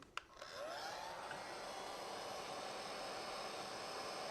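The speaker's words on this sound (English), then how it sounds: "And now I can fuse that in again with the heat gun." A heat gun fusing encaustic wax gives a steady, even whooshing blow of air that holds at a constant level throughout, after a brief click at the start.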